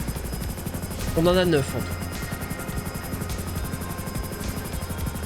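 A helicopter in a roleplay video game drones with a steady, rapid rotor chop throughout, with someone speaking French briefly over it.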